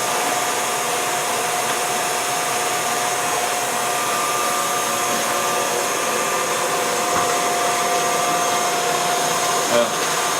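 Electric mixer whipping egg whites with sugar for a schlitt recipe, a steady continuous motor whir with a faint high tone, holding even and loud throughout.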